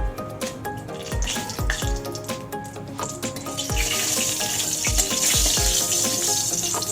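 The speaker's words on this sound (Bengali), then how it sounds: "এবার এই তেলের মধ্যে আমি দিয়ে দেবো 4টে গোটা শুকনো লঙ্কা" Four whole dried red chillies hit a small amount of oil while a duck egg do-pyaza cooks, and a soft sizzle swells into a steady hiss about halfway through, over background music with plucked, percussive notes.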